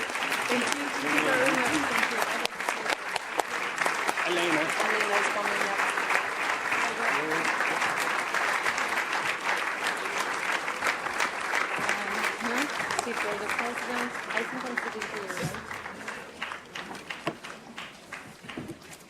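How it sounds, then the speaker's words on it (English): Sustained audience applause fills a plenary session hall of the European Economic and Social Committee, a dense, steady clapping that lasts throughout and tapers slightly toward the end. "Please give a round of applause"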